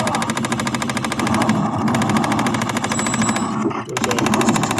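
A toy gun with a solenoid recoil mechanism fires in a rapid, continuous mechanical rattle, loud and close, with a brief stutter near the end before the buzzing burst resumes.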